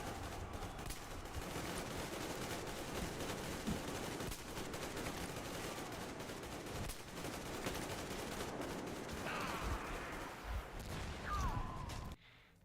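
Shotgun fire and other gunfire in the video game Metro Exodus, with dense, continuous bursts of shots and explosions rolling through a busy, faint combat mix.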